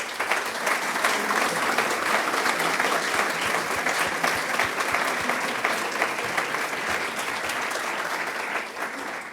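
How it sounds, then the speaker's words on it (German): Sustained applause from a large crowd at an opening ceremony, including schoolchildren, dense and steady clapping filling the whole stretch without letting up. "in sedaj pa močan Applaus, prosim"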